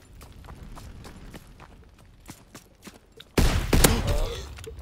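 Shotgun gunfire in a Call of Duty: WWII match: faint scattered shots and footsteps build to a sudden loud, close blast and burst of fire near the end.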